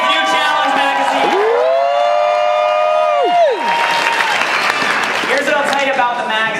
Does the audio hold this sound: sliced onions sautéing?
no